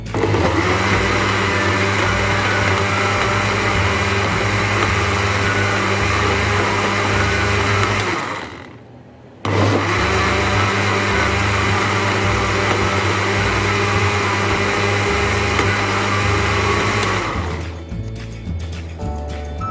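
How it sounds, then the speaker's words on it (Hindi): A blender runs at full power blending dates and banana into a milkshake: a loud, steady motor whir that briefly cuts out near the middle, restarts, then winds down near the end. "अच्छी तरह इसे ब्लेंड करेंगे ताकि खजूर और केला बिल्कुल मिक्स हो जाए"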